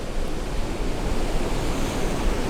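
Surf at Kings Beach in Caloundra on the Sunshine Coast, a steady broadband wash of breaking waves with some wind noise on the microphone, continuous and fairly loud with no talk.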